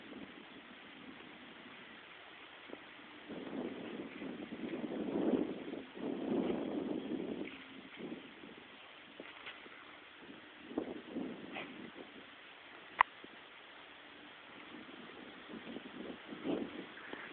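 Wind machine running about 60 yards away outdoors, a faint steady engine-like drone with a breezy wash of wind and rustling trees over it, rising and falling slightly.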